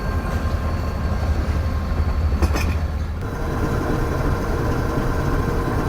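The Business Express passenger train rolls through Kotri Junction on platform 3, bound for Karachi from Lahore: a steady loud low rumble of wagons with a brief metallic clatter partway through, heard close from the platform or another train.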